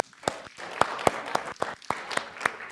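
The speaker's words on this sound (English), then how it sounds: "A huge round of applause for this amazing team." Audience applause at an education professional-development day, heard as a run of sharp, separate claps about every quarter second over a steady hiss of crowd noise, with no talking.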